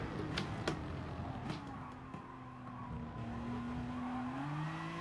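An Aston Martin race car in Gran Turismo Sport revs and drones with shifting engine pitch, with tire squeal and skidding as it corners.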